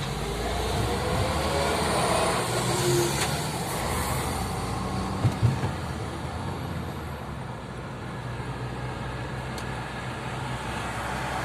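Road traffic with cars and a truck on a multi-lane road in Konya, heard as a steady, fairly loud engine and tyre rumble from inside a moving vehicle, with no talking.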